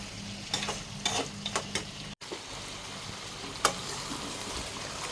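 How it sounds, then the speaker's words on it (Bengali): Mutton sizzles in a wok while being stirred, a soft steady frying hiss broken by occasional spoon scrapes and clacks against the metal, with no voices. "আজকে মাংস রান্না হচ্ছে কড়াইতে"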